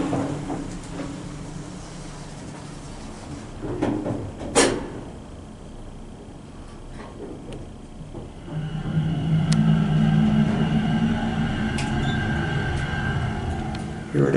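A Dover hydraulic elevator, modernized by Hadfield, descends to the basement, with its steady hum and rumble rising midway and clunks from the cab and doors, while a voice speaks quietly over it.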